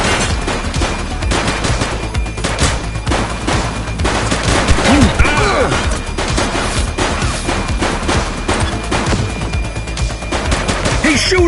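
Dense automatic and rapid gunfire rattles nonstop through a police shootout, loud and close with bursts overlapping, as a voice shouts briefly amid the shooting.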